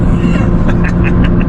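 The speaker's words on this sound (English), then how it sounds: "I don't know if you guys can hear the blow-off valve when it's going off." A Nissan GT-R drives through a tunnel, engine rumble loud and close, with a short series of rapid chattering bursts from the blow-off valve near the end.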